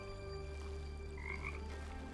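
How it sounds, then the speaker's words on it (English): Frogs croak in The Talos Principle II, a dense, steady chorus of many frogs with a couple of louder nearby croaks rising briefly above the drone, with no voices. "Millions of frogs."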